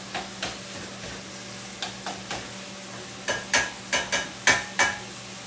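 Ground meat browns in a pan with a steady low sizzle, while a utensil scrapes and stirs in a series of crisp, evenly spaced strokes that grow louder and quicker toward the end, close and with no talk.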